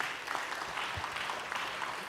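Audience at a prison reform conference applauds the panel with steady, moderately faint clapping, a continuous patter of many hands in a hall.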